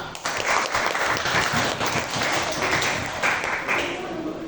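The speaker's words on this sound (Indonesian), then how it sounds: "tepuk tangan untuk kelompok 5" A class of students applauds group 5, a dense wash of many hands clapping steadily and fairly close throughout, without a break.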